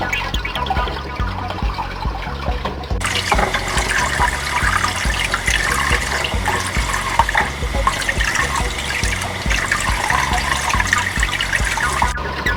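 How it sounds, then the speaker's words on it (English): Cold tap water runs steadily while hard-boiled eggs are peeled under it, a continuous close splashing rush lasting about twelve seconds with no talking. "one of the easiest ways to peel hard-boiled eggs, by the way, is under running cold water"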